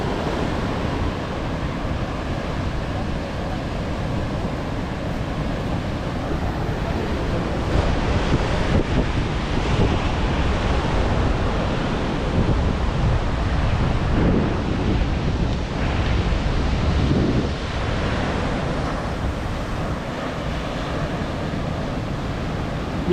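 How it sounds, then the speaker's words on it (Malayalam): Surf washes steadily onto Kovalam Beach in Kerala while wind buffets the microphone, a constant broadband roar with stronger gusts midway through. "അതാണ് കോവളം ബീച്ച് നല്ല സുഖമാണ് ഇവിടുത്തെ കാറ്റിനൊക്കെ"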